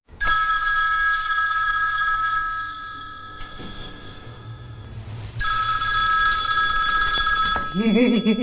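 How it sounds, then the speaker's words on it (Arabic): A telephone rings loudly and steadily with repeated electronic tones, then shifts to a brighter, louder ringtone partway through, with a voice briefly audible near the end. "تليفون غسان. خلينا نسوي سايلنت"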